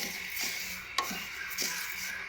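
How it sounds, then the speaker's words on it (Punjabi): Broken wheat (dalia) dry roasting in a pan while being stirred, with soft scraping strokes and a gentle gritty rustle, plus a sharp clink near the middle, close and fairly quiet with no talking. "ਇਹ ਦਲੀਆ ਹੀ ਭੁੰਨ ਲੈਂਦੇ ਆ ਆਪਾਂ"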